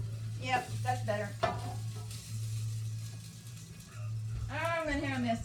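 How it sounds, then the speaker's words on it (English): Chicken frying in a pan on a home stove, a steady sizzle running throughout with stirring noises, while someone talks over it in a home kitchen. "I got to start frying chicken."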